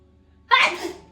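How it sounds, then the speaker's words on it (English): A woman gives a single sudden, close sneeze that bursts in sharply and trails off quickly after a quiet moment. "I feel like sneezing."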